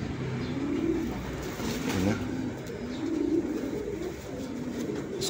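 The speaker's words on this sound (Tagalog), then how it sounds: "Gago tong ibon na to." Pigeon cooing in soft, repeated low rolling phrases, fairly close, over steady background noise; someone briefly speaks.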